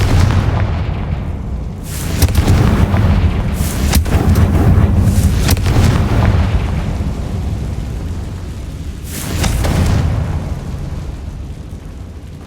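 A Confringo spell in Hogwarts Legacy sets off a series of booming explosions, with sharp blasts and rumbling tails that swell again near the end of a long stretch.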